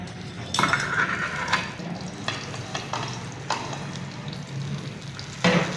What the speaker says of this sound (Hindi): सेवइयों को भूनने के लिए हम देसी घी का इस्तेमाल करेंगे।